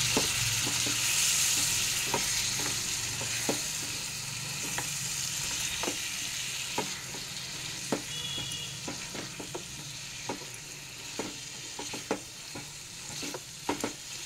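Mutton for mango achari curry fries in a pan with sour yogurt, a soft continuous sizzle punctuated by regular spatula scrapes and clicks as it is stirred, with no talking.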